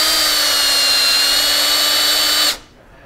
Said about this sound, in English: We want to make sure that when we get this hole drilled